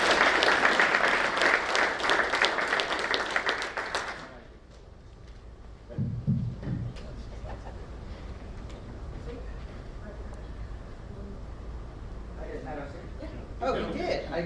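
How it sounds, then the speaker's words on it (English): Applause from an audience at an SC Alliance general membership meeting, loud and dense for about four seconds, then breaking off into quieter room noise with scattered talk and a few faint claps near the end. "We'll welcome him to the stage with a big round of applause"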